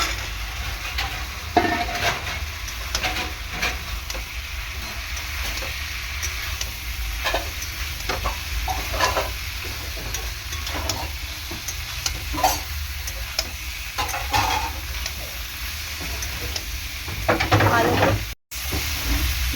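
Fried soybeans and potatoes are stirred through a thick gravy in a hot pan, giving a steady close sizzle and hiss with repeated scraping strokes of a spatula and no talking.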